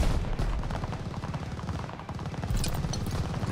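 Dense, continuous gunfire in Call of Duty: Vanguard during a hotel lobby firefight, with rapid automatic bursts and heavy shots close by throughout, loud and unbroken with no talk over it.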